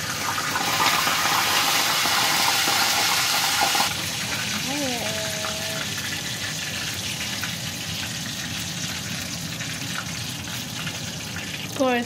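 Oil sizzling loudly as food fries in a home kitchen during the last day of Ramadan, with a steady hiss that softens after a few seconds into quieter crackling and faint background sounds.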